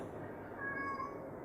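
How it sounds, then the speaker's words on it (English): A cat gives a faint, short meow, a single thin call heard close against a quiet room background with no talk. "that's my cat."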